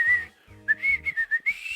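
Someone whistles a short tune up close, a run of clear, bright, sustained notes stepping in quick pulses after a brief pause, with no talk over it.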